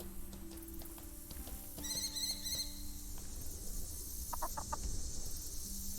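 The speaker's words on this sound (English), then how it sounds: "There are some chickens." Chicken clucks in the medieval online game Mortal Online 2, a few short repeated clucks near the end over steady ambient noise, with horse neighs and hoof clip-clops also around a settlement.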